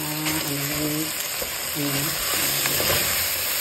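Vegetables with tomatoes sautéing in a pan, a steady close sizzle with scraping stirring, and a faint tonal hum running underneath.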